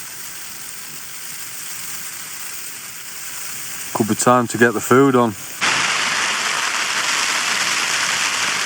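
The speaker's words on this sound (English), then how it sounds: "Raining, innit?" Steady rain hisses down across a clouded-in mountain summit campsite in the Lake District, with someone speaking briefly partway through before the downpour grows louder and continues alone.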